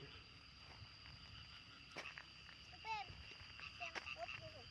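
Frogs croaking after a night of rain, a few scattered chirpy calls over a soft outdoor background, fairly faint and distant, with a person talking nearby.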